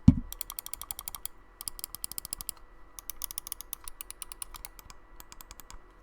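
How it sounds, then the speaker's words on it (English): Logitech G Pro Wireless mouse buttons clicked over and over in quick bursts, crisp sharp ticks in uneven runs with short pauses, close and clear, no talking. "Logitech has honestly the most perfect clicks I've ever heard in my life."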